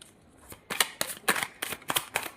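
Tarot cards shuffled by hand in a series of about seven quick, crisp riffling bursts, close and clear, with short pauses between each pass.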